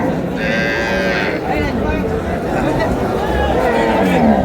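Cows and calves low loudly at a busy cattle market in Dinajpur, one long moo rising clearly over a steady crowd murmur while people talk and bargain throughout.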